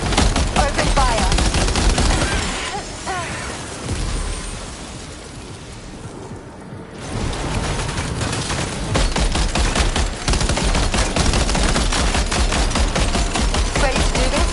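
Death Stranding 2 combat with sustained heavy gunfire and rattling automatic shots, loud and dense, easing briefly midway before resuming at full intensity.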